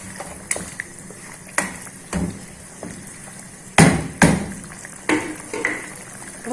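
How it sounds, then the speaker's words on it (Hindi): Mutton sautéing bhuna-style with vinegar in a pan over a high flame for mutton do pyaza: a loud, irregular run of sharp spoon clanks and scrapes against the pan over a steady sizzle, with no talking. "अब इसको हम गोश्त को अच्छी तरह भूनेंगे"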